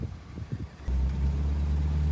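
Car with a Buick Dynaflow automatic transmission driving and turning around on a private road, a few soft thumps and then a steady low engine rumble that swells and holds, fairly close, with no talk.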